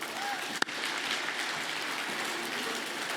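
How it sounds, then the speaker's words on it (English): An audience claps steadily and evenly for Vanessa Madden at an awards presentation, a broad sustained wash of applause that fills the room. "So can we give Vanessa a big round of applause?"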